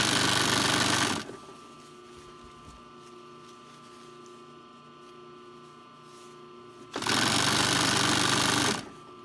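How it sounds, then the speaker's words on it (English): A sewing machine stitches a Supplex nylon draw-cord tunnel onto a Hudson Bay wool blanket shirt, running in two loud steady bursts at the start and end with a quieter hum of the idle machine between. "I'm sewing a tunnel all the way around the bottom of this shirt"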